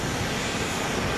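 A Boeing 777X test aircraft on the runway at Boeing Field produces a loud, steady engine roar, dense and unbroken for the short stretch.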